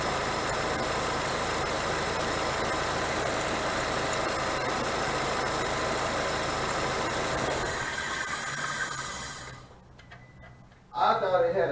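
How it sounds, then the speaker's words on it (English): A running 2003 Nissan Altima engine idles close by with a steady ticking from a worn alternator clutch, then the engine shuts off and goes quiet before a sudden loud sound at the end. "it's actually the clutch on the alternator that's doing that noise"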